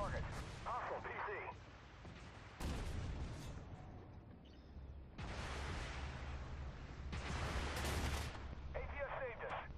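A Merkava 4 tank fires its cannon in the Armored Warfare video game, with repeated heavy booms and rumbling blasts over a sustained battle din, and a voice speaks intermittently.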